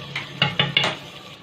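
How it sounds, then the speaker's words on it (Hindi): Spiced masala being fried in a pot for chicken salan with arvi, with a few quick stirring scrapes and clinks of a spoon against the pot over a low, steady sizzle. "तकरीबन 5 मिनट हो गए हैं मसाला भूनते हुए"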